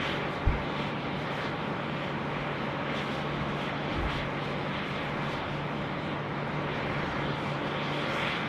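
A Boeing 737 rolls along the active runway at Sydney Airport, a steady broad engine roar with a low hum, heard from a distance and continuous throughout, with a brief thump near the start.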